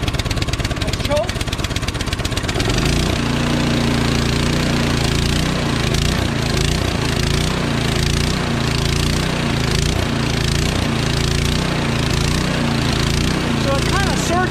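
Troy-Bilt Storm 2620 two-stage snowblower engine running steadily at full throttle in 28-degree cold, a loud continuous motor drone with a slight rhythmic surge, starting up with a rough sputter in the first seconds.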